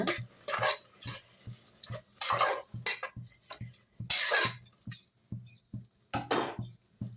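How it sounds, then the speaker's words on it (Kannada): Repeated scraping and clinking of a spoon stirring rice with masala in a pot, irregular bursts with short pauses between, close up and without speech. "ಇದನ್ನ ಒಂದ್ಸಲ ಚೆನ್ನಾಗಿ ಮಿಕ್ಸ್ ಮಾಡೋಣ"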